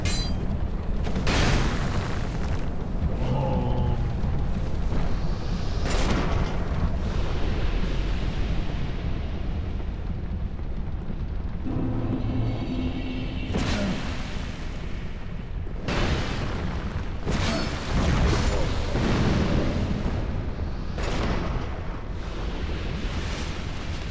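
Fire explosions and booming bursts from an enemy fire lady in the video game Dark Souls 2, several loud blasts recurring over a continuous rumbling game soundscape.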